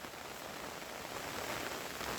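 Steady rain pours down over an open farm field where seedlings are being planted, a dense, even hiss of drops hitting the ground and leaves, close and continuous with no voices.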